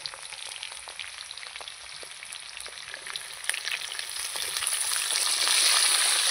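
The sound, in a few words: capsicum added to pan with fried potatoes, sizzling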